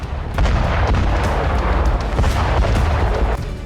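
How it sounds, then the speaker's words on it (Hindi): Rocket strike explosions on a front line near Lyman, heard as continuous heavy rumbling booms with repeated blasts and crackling bursts, loud and dense with no speech. "लीमन में रूसी सेना ने भीषण रॉकेट स्ट्राइक की"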